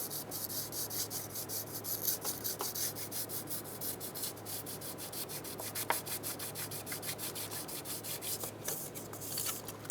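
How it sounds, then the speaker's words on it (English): Fine sandpaper wrapped around a wood block rubbing back and forth over the valve cover mating surface of a 2007-2012 Nissan Altima engine, steady rhythmic rasping strokes close up and fairly quiet, no talk. "Using a very fine piece of sandpaper wrapped around a block of wood, go ahead and go down and clean the mating surface."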